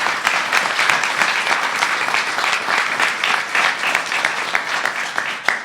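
A crowd at a political gathering applauds steadily for several seconds, dense close clapping with occasional sharper individual claps near the end.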